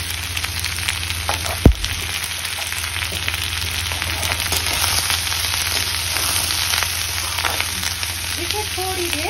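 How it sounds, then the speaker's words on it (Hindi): Finely chopped green chillies fry with paneer in a pan for chilli paneer, crackling and sizzling steadily up close, with a single sharp knock of a utensil early on. "बारीक कटी हुई हरी मिर्ची भी डाल के अच्छी तरीके से भून देते हैं।"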